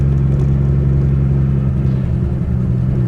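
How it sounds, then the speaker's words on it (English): A 1970 Triumph TR6 driving with a loud aftermarket exhaust, a steady deep engine rumble heard close up from inside the car, with a slight rise and dip around the middle and no talk. "The car has kind of a Mickey Mouse exhaust on it, so that's loud"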